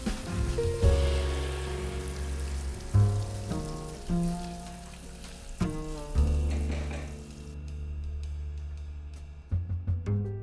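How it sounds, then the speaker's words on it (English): Half a pound of bacon renders its fat in a pan with a steady sizzle and crackle, largely masked by loud background music. "Then you can cut right through it, you don't have any trouble at all, and start to render this bacon fat."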